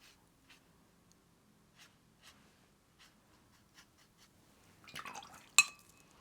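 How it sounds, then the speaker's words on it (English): A paintbrush loaded with clean water strokes faintly and softly across paper, giving brief, quiet brushing swishes spaced apart, followed near the end by a louder splash and glassy clink. "I'm using some clean water to move it around my page, just to kind of gently get rid of some of that white area."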